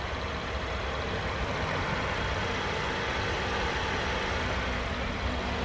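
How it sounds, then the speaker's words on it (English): A 2015 Cadillac SRX AWD V6 idling smoothly, a steady, even low hum with a faint broadband hiss, constant in level and uninterrupted by voices. "that V6 idling perfectly smooth, very happy"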